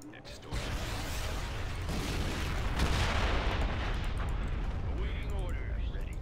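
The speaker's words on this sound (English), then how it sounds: "That was a pretty explosion." Laser fire and a big explosion in a Star Wars Mandalorian battle video game, a dense, loud roar of blasts and rumbling booms that runs without a break for about six seconds.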